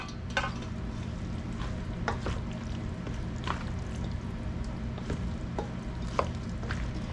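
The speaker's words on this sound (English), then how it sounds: "now we're going to mix it up really well" Casserole ingredients with cheese and blanched zucchini being mixed in a bowl, a continuous wet stirring and scraping with soft clicks of the utensil, close and steady, no voices.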